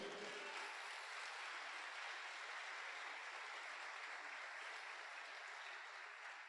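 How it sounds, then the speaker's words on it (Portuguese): A church congregation at a Lord's Supper celebration in Valinhos gives a sustained round of applause, heard as a smooth, dense wash of clapping that holds steady from start to finish. "Dá um aplauso aí, por favor."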